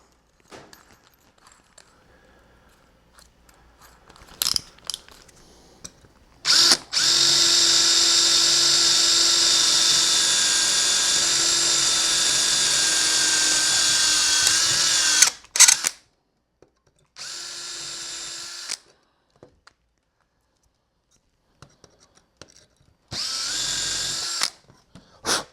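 Power drill boring holes in a metal Blaster Factory kit for a Jyn Erso A180 blaster build, with one long steady high whine, then shorter bursts separated by quiet pauses and small handling clicks.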